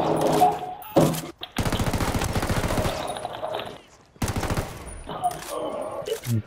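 Rapid automatic gunfire in Ghost Recon Wildlands, several loud sustained bursts separated by short pauses, with sharper single shots mixed between them.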